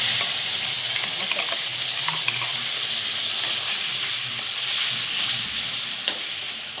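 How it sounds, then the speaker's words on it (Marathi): Spice paste with garlic frying in oil for a drumstick-pod curry, a loud, continuous close sizzle with scattered scraping stir clicks and no voices. "छान तळून घेतले मसाले"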